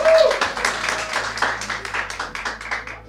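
Audience applause at a local food launch event, a short burst of fairly close hand clapping with distinct individual claps, over faint background tones and murmuring, thinning out toward the end.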